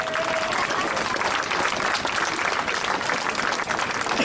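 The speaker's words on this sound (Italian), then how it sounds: "Direi di fare un grande applauso." Steady, dense applause from a sizable audience at a live band concert in Jesolo, Italy, fills the whole stretch, loud and continuous with no letup.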